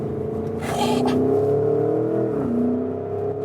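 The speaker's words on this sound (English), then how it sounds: "how calm and collected this vehicle remains when you accelerate it out of the corner" A Porsche Cayenne GTS Coupé with a 460 hp V8 accelerates hard in sports mode out of a corner, its engine note climbing steadily, briefly dipping at a shift, then rising again, heard from inside the cabin.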